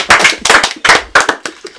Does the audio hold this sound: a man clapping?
yes